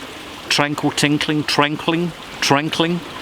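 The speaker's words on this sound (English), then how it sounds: "behind me you can hear the sound of living water in a tranquil tinkling" A gentle stream trickles and tinkles steadily in the background while someone talks over it in the foreground.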